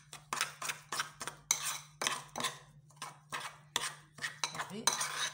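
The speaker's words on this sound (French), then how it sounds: "je vais venir mélanger le tout" A spoon stirs a hand and foot scrub mixture in a bowl, producing quick rhythmic scraping and clinking strokes, about a dozen bursts in brisk succession, close and fairly quiet.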